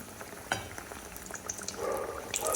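Fritters crackle and sizzle as they fry in oil close by, with soft bubbling and a sharp tap partway through.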